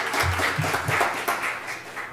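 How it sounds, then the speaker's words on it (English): An awards-ceremony audience claps for a teen honoree, a brief, moderately loud patter of hands with a voice speaking at the start. "give her a round of applause"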